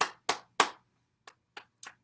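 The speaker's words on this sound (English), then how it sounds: "Clap your hands." Six distinct hand claps, three loud ones close together, then a pause and three quieter, spaced claps, heard alone in a quiet room during a morning bouncing exercise session.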